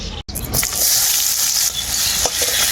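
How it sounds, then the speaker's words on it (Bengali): Chopped onions hit hot oil left from frying potatoes and set off a loud, continuous, close sizzle that follows a brief silence at the very start, with occasional stirring sounds. "পেঁয়াজটাকে আমি হালকা করে ভেজে নেব"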